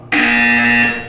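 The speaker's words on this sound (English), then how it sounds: "When you hear the buzzer, stare at the art." A loud, steady electronic buzzer sounds in the Portal 2 video game, starting abruptly and holding one harsh tone for about a second before cutting off.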